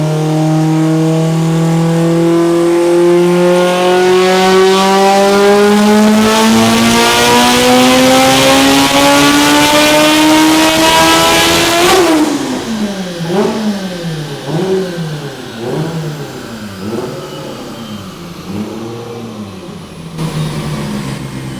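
A 1000whp all-wheel-drive Honda Civic Si engine screams as it climbs steadily past 10,000 rpm, very loud and distorted, then drops into a series of rapid rev blips and bouncing revs.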